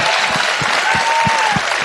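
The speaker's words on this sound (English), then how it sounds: "So great applause line." Audience applause at a Republican political speech unveiling the GOP Commitment to America plan, a dense, loud wash of clapping from a large crowd, with a few faint whistles mixed in and no talking.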